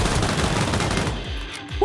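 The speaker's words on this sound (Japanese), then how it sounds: "なんか撃ってるぞ、スナイパーを" Rapid automatic gunfire from the mobile battle-royale game Knives Out, a dense burst of shots near and loud for most of the clip, thinning toward the end with a couple of heavier thuds, no talk over it.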